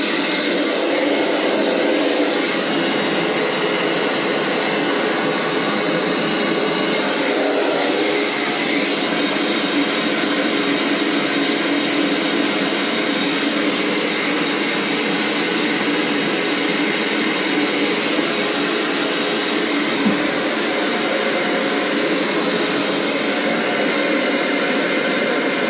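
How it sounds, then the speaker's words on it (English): A blower on its high setting pushes cut hair off after a man's haircut, a loud, constant whooshing roar that holds steady for the whole stretch, close by and with no speech. "Put it on high. Blow all the hair off."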